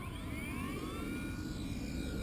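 A Blade mCP X 2 radio-controlled helicopter lifting off and flying, its rotor and motor giving a steady high whine with shifting pitch, close and continuous.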